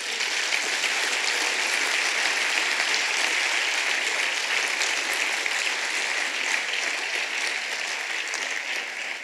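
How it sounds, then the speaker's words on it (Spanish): Church congregation applauding the Lord during a Spanish-language service, sustained even clapping that fills the hall steadily for several seconds before easing slightly at the end. "¿Puedo brindarle un aplauso al Señor?"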